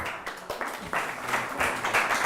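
Audience applause fills a lecture hall at a psychoanalysis course, a steady wash of many hands clapping at moderate loudness with uneven swells, no voices standing out above it.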